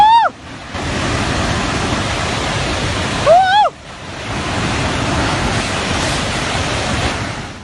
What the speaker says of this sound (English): When a dam breaks, it is no longer just ordinary water, but an enormous force that sweeps away everything in its path.